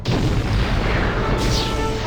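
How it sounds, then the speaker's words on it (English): A game explosion in a Treasure Planet read-along PC game, a loud sustained boom and crash rumbling for about two seconds with crackling debris. "There was an explosion, and energy beams shot everywhere."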